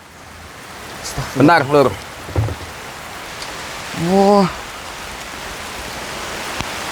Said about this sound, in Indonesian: Ini hujan. Hujan lagi. Ini hujan benar-benar.